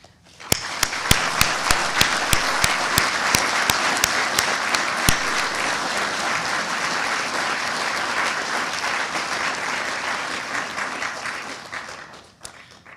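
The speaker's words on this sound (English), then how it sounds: "join me in a round of applause for the academic and support staff" Applause for the academic and support staff at a graduation ceremony: a packed hall claps steadily for about twelve seconds, starting with a few loud individual claps and fading out at the end.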